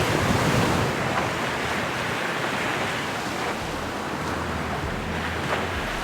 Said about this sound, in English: The waves are quite big.